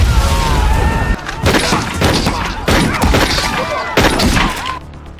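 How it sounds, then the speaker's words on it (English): Gunfire and heavy impacts from an action movie scene, loud bursts of shots and thuds recurring in clusters across the clip with crashing hits between them. "To deal with Adam, the butler hired another ace assassin, ready to open fire."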